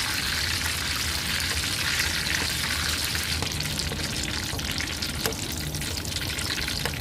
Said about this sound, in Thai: ทอดใบมะกรูดให้กรอบดีเลยนะคะ